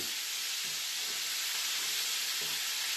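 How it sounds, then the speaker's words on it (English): Mince browning in a pan for chilli con carne, a loud, steady hissing sizzle that stays even throughout with faint stirring underneath. "We start moving it round, and you're hoping to get the mince nice and brown."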